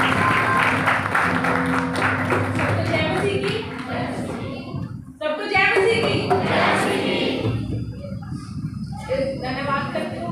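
A church congregation claps to welcome someone speaker, a sustained burst of applause from a gathered crowd with voices mixed through it, dipping briefly midway before picking back up.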